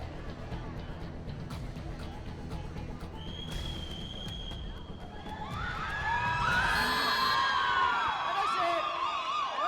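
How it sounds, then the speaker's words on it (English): A crowd at a Yuva Kabaddi match between Chennai and Palani Tuskers breaks into loud cheering, whoops and whistles that swell midway and hold, rising over a murmuring background of babble. "you can hear the loud cheer for Sectivel there"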